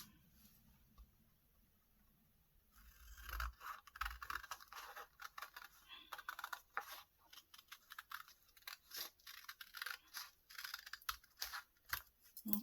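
Scissors snip a curve out of an envelope's back side for a junk journal, a run of close, crisp paper cuts and rustles after a quiet start.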